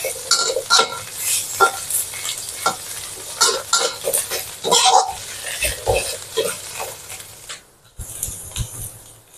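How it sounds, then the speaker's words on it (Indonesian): Mushroom sticks stir-fried in a pan in a home kitchen: sizzling under repeated scraping and clattering strokes of a utensil, close and fairly loud, with a brief lull near the end before the stirring resumes. "masukkan ini stik mushroom tadi. Ini ditumis."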